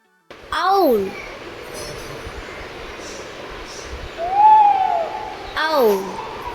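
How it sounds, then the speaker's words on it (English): An owl gives two clear, wavering hoots, one at the start and one near the end, with a softer hooting call between them over a faint steady background. "owl."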